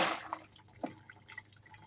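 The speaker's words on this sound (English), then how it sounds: "So right now it's dripping, okay?" Muriatic acid dripping from a batch of computer chips during gold recovery, a few faint, sparse drips and small liquid plinks in a quiet room.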